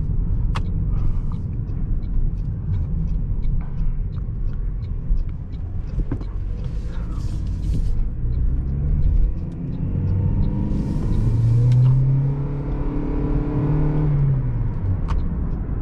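A 2023 Toyota Prius drives onto a highway, heard from inside the cabin as a low, steady road rumble with a faint motor whir that rises in pitch while it accelerates, with no talk.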